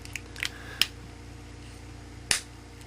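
Sharp plastic clicks from an Xbox 360 wireless headset casing being snapped shut, two distinct snaps about a second and a half apart over a steady low hum.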